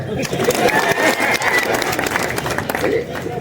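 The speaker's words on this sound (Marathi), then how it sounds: "वाजवा टाळ्या" A crowd applauding at a political rally in Dharashiv, a burst of loud, close clapping over a rumbling crowd, with a speaker's voice mixed in.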